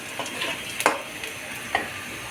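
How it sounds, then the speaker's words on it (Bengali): Onions stir-frying in a pan for a home-cooked dish with dried fish, giving a soft steady sizzle broken by a few sharp scrapes and stirring clatters, close and alone without voices. "তো পেঁয়াজ আমার ভাজা হয়ে গেছে।"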